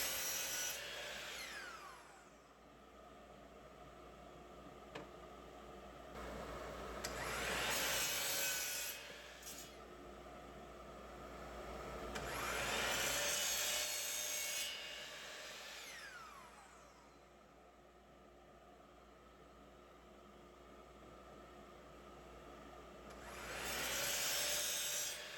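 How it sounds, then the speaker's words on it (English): A hand saw rasps through the corners of a wooden mallet head to make 45-degree miters. Repeated slow strokes rise and fall in several long bursts, fairly close and quiet, with no talk. "I'm gonna miter the corners at a 45"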